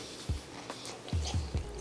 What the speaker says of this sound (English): Solid crunch.